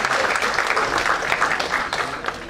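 An audience at an engineering workshop breaks into applause, a dense, steady patter of many hands clapping that carries on evenly and tapers slightly at the end.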